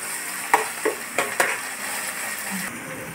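Onion and ginger garlic paste frying in a pan, a steady close sizzle broken by a few sharp clinks and scrapes of a spoon stirring against the metal.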